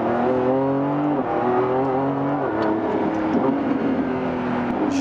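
A 1015-horsepower Lamborghini Revuelto produces a loud, sustained engine drone from the cabin. The pitch holds fairly steady and shifts briefly a couple of times as the car pulls forward, with no voices.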